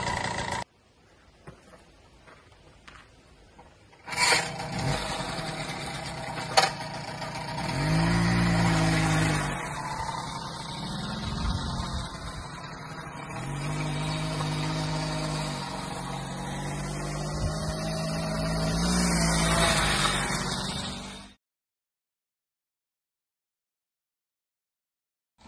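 A 1989 Di Blasi R7 folding moped's small engine catches after a kick start and runs close and loud with a steady buzzing drone, the pitch rising and falling with throttle blips, then cutting out abruptly.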